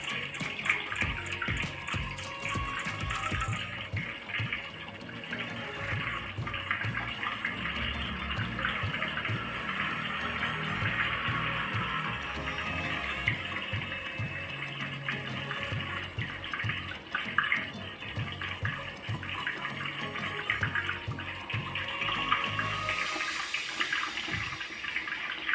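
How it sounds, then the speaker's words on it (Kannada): Masala fish, Bhangda mackerel, fries in a covered pan on medium flame, giving a dense, continuous hiss and crackle that holds steady throughout, close and fairly loud with no voices. "ಮೀಡಿಯಮ್ ಫ್ಲೇಮಲ್ಲಿ ನಾವು ಫ್ರೈ ಮಾಡೋಣ. ಇದ್ರ ಮೇಲೆ ಲಿಡ್ ಕ್ಲೋಸ್ ಮಾಡಿ ಇಡ್ತಾ ಇದ್ದೀನಿ"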